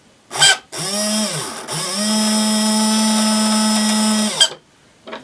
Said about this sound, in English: So I'm going to put some power to this motor and see if it runs.